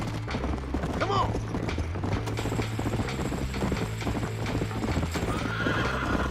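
Horse hooves clip-clopping at a gallop with a whinny near the start in the video game Red Dead Redemption, over a steady low engine-like drone; the hoofbeats continue rhythmically throughout.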